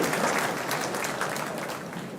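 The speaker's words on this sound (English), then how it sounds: "I request every one of you to stand and give a big clap and ovation to our beloved Apostolic Nuncio" An audience at a medical college hospital blessing ceremony gives a standing ovation to the Apostolic Nuncio, with steady, dense clapping from a large crowd that fades slightly toward the end.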